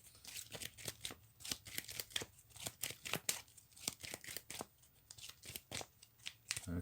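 Event cards for the board game New Georgia are shuffled by hand, giving soft, rapid, close-up papery riffles and snaps in an uneven rhythm for several seconds, quiet and alone.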